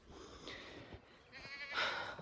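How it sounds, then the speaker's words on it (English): Goats in a farm pen, some of them pregnant, give a couple of short, faint bleats about a second apart against a soft background hum. "And we have these goats in here."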